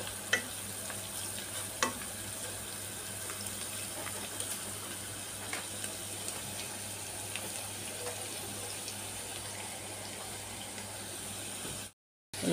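Garlic frying in a pan, a constant soft sizzle with occasional faint crackles over a low steady hum, fairly quiet and even throughout, cutting out briefly near the end.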